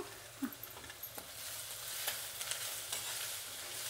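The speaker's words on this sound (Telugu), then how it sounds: "ఇలా కొద్దిగా వేగిన తర్వాత మనం తురుము పెట్టుకున్న అల్లం వేసేద్దాము" Grated ginger and curry leaves frying in oil in a pan, a steady soft sizzle with a few brief stirring clinks and scrapes, close and moderately quiet.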